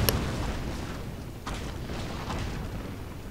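Ship cannons firing chain shot in a naval battle video game, heard as dull, distant booms scattered over a constant rumbling background, low in level with no talking.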